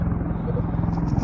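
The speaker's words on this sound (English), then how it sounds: "We have a helicopter in the background." A helicopter flying nearby over a field, a steady low rhythmic rotor thump and engine drone filling a short stretch with no clear pauses.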